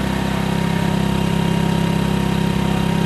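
A Hero motorcycle engine runs steadily close by during tuning, with a continuous loud drone and an unsteady, uneven beat suggesting misfiring; no voices.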